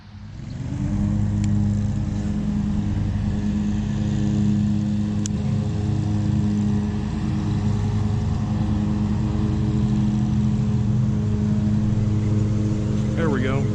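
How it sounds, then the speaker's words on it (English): A lawnmower drones steadily in the background during a bass fishing outing, a constant low engine hum running beneath someone talking. "Beautiful lawnmower in the background"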